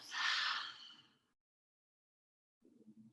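A strong breathy exhale through the mouth during a gentle hip-opening yoga flow, loud for about a second and fading, followed by silence and then a faint low murmur.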